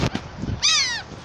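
A seagull being fed outdoors gives one loud, close, harsh call lasting under half a second, after a few dull knocks and rustles.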